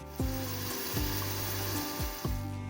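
Cumin seeds sizzle in a couple of spoons of hot oil for a Bengali fish curry, a steady close frying hiss with a few soft knocks and stirring sounds, and no voices.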